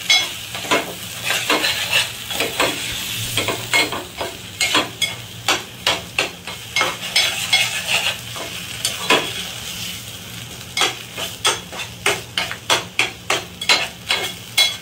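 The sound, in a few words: sautéing mackerel fish in red coconut masala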